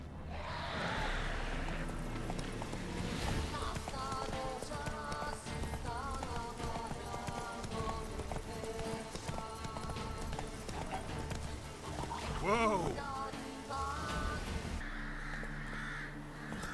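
Roach, the horse in The Witcher 3, gallops with a steady rhythmic clop of hooves, while crow caws, a whinny and other game sounds are layered over it.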